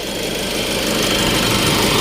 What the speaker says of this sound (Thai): เสียงเครื่องยนต์นิ่เดินเบาดี